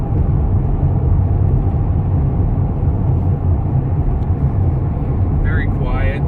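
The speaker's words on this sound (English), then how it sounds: "Very smooth and compliant ride with this truck." Steady, loud road and tire rumble inside a 2017 Chevy Silverado truck cruising on the highway, a continuous low drone throughout with no talking.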